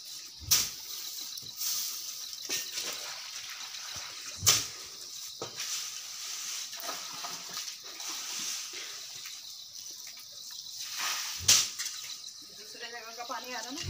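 Water running steadily from a tap or pipe at a hillside home, a continuous hiss with a few sharp knocks and clatters, and voices talking faintly over it.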